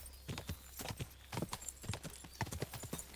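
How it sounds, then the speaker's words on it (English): A horse gallops in Kingdom Come: Deliverance 2, quick uneven hoofbeats clopping close and clear in bursts over a faint low rumble. "Go on, horsey."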